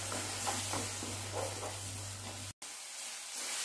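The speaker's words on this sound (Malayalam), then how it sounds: "ഇനി ഇതിലേക്ക് നമുക്ക് ഈ അരച്ച സവോളയും പച്ചമുളകും വെളുത്തുള്ളിയൊക്കെ ഇവിടെ അരച്ചില്ല, അതിട്ട് കൊടുക്കുക. ഇത് നല്ലപോലെ ഒന്ന് വഴറ്റിയെടുക്കട്ടെ." Ground onion, green chili and garlic sautéing in a pan for Kerala-style chicken curry, a soft continuous sizzle with light stirring scrapes over a low steady hum, which briefly drops out before the sizzle resumes.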